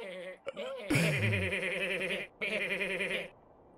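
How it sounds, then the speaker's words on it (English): Goat bleats from the Goat Simulator video game, loud, wavering bleating calls that run in two long bursts separated by a short gap, with a brief voice or sound at the start. "Shut up, goat!"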